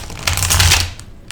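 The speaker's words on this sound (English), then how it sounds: "So we'll shuffle these 2 more times." A deck of tarot cards is shuffled once up close, a brief crisp riffling flutter followed by a couple of soft taps.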